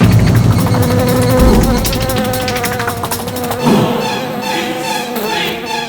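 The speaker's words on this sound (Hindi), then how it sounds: "कोई मक्खी देखी तो डर गया?" Housefly buzzing inside a jail cell, a continuous insect drone with a loud, busy texture that holds steady throughout, swelling slightly near the middle, with no talk over it.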